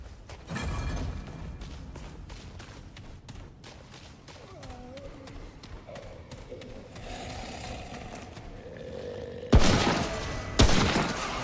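Hunting rifle fire in the video game Remnant: From the Ashes, with two loud, sharp shots near the end standing out over quieter game sounds and mechanical clicks.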